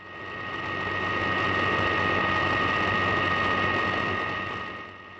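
A Yamaha V Star 250 motorcycle engine drones steadily while climbing a long, steep highway incline toward a mountain pass, with a constant hum that swells and fades, no speech.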